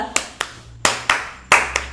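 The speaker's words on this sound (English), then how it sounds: "I already saw people are clapping along." Several sharp, loud hand claps ring out in an irregular rhythm as people clap along to a song, close by, with a faint low hum underneath and no talking.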